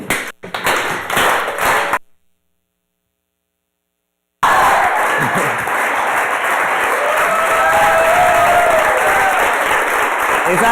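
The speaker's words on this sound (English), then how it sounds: "I'm going to have you guys clap, and Lily is going to count off" A crowd claps at a talk event, a brief burst, then a gap of silence, then a long, even wash of applause over a constant electrical hum.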